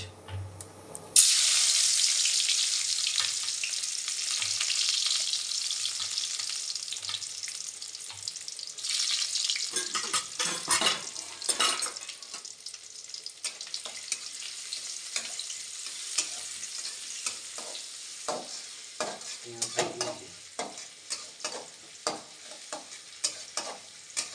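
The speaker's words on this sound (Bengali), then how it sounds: "এবার কড়াই দিয়ে দেবো পেঁয়াজ।" Onions fry in hot oil in a wok, sizzling loudly and close at first, then continuing under repeated scraping and stirring strokes that come in an irregular rhythm.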